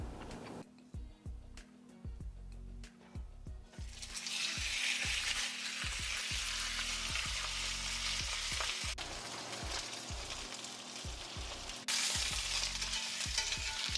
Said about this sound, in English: One of my favorite things to do while we cook steaks is to throw some butter in at the end and then just basically like baste the steaks in that butter.